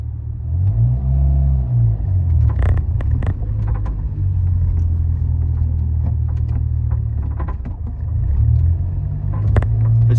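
A car running on 100% hydrogen with its standard ECU drives along, its engine a low, steady rumble close by with a short rise in revs early on and faint clicks and knocks over the drone.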